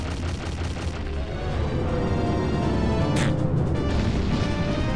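Rapid bursts of explosive pops and crackles, loud and continuous, like a fireworks volley in The Legend of Zelda: Majora's Mask (N64) during the Twinmold boss fight, with a sharp blast near the middle.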